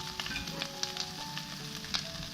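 Vegetables stir-frying in a mix of oil and perilla oil over medium heat for a seaweed stem stir-fry, with garlic already cooked in, giving a steady close sizzle and a few light spatula taps, no talking.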